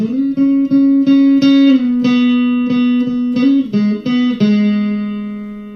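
An electric guitar plays a lead riff of sustained, bending notes with brief gaps between phrases, steady and loud, the final note ringing out and fading.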